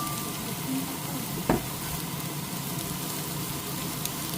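Onion, garlic and eggplant fry in a pan with a steady sizzle, broken around halfway by one distinct scrape or clank of stirring. No voices are heard.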